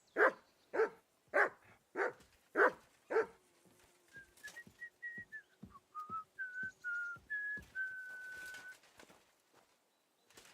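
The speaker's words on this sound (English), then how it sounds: "good dog, Mutz." A dog in a video game gives six evenly spaced, sharp barks, followed by a series of whistled tones and soft thumps, with no speech.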